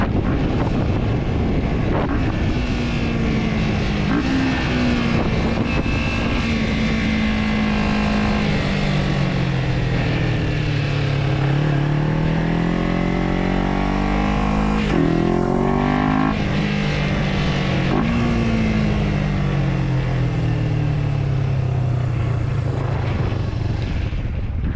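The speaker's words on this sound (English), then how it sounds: "It was either all wind noise or engine noise or a combination of both" A Kawasaki Ninja 250 motorcycle engine drones continuously, rising and falling in pitch as it revs, with heavy wind buffeting the microphone throughout.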